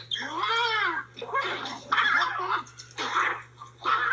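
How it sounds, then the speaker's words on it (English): A cat yowls in long, drawn-out wavering cries, several in a row with brief pauses, close and fairly loud over a steady electrical hum. "It's a cat."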